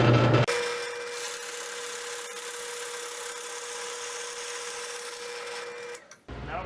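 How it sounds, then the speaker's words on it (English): A drill press set very slow bores a center hole into wood with a 2-inch Forstner bit, giving a steady close grinding, rasping cut with a faint whine that runs for several seconds, then stops abruptly. "I'm going to start with the 2-inch Forstner bit for the center hole, and you'll notice that I have the drill press set very slow."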